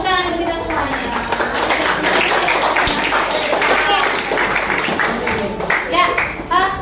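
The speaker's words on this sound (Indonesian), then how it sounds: "Tepuk tangan untuk kita semuanya" A classroom of students claps together in a lively, uneven burst, with children's voices talking over the clapping.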